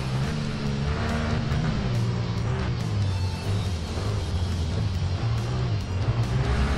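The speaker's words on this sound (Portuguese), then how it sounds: "tem uma motinha cantando atrás de mim aqui, rapaz." Motorcycle engine from the racing video game Ride, a steady droning whine of engines held under continuous game audio, with no talk over it.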